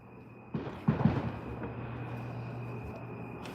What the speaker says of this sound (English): Oh, that's fireworks.